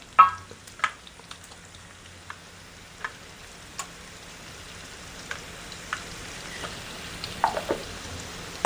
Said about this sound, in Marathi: कांदा इकडे परतत आहे